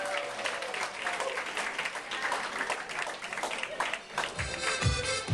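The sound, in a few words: wedding guests applause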